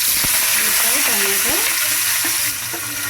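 Spices such as cloves sizzle and fry steadily in a hot pan while ingredients for an egg and tomato curry are stirred, with a few scraping clicks from the spoon over the continuous close hiss.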